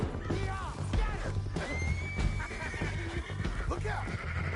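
A horse neighs and whinnies repeatedly in Red Dead Redemption 2, with hoof clip-clops, shouting voices and a chaotic scene around it, loud and close throughout.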